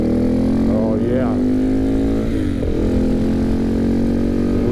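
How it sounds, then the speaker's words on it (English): KTM 690 single-cylinder motorcycle engine revving steadily and loud up close, a strong low grunting drone with the pitch dipping and rising between throttle blips on the road up Schnebly Hill. "Listen to this fucking bike. It sounds awesome when it's like low, when it really grunts up."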